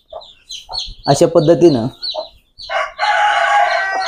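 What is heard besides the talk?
hen clucking with chicks, rooster crowing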